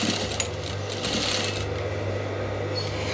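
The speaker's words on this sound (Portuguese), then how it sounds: "Na parte de baixo, fazendo a nossa costura reta aqui, sem mais." A sewing machine runs a straight seam along the bottom of a themed dish towel, a steady fast mechanical whirr and rapid needle chatter heard close up and alone.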